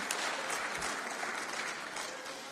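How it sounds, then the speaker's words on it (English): Audience applause in the European Parliament, a dense steady clapping at moderate distance that slowly fades toward the end. "I klapper herover, jeg skal nok slutte"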